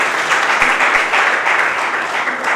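Audience applause at a college foundation day celebration, a loud, thick roll of clapping from a large gathering that holds steady from start to finish.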